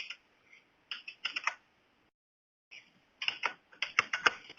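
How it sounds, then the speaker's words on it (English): Quick bursts of clacky keystrokes on a loud computer keyboard, close and dry, in two uneven runs split by a pause of about a second. "Sorry, my very noisy keyboard."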